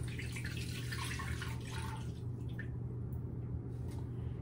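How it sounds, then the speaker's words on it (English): Water poured into a pot of meat for birria makes close splashing and dripping in the first half, then thins into a few scattered drips over a low kitchen hum. "So this is about 16 ounces of water I'm gonna throw in there."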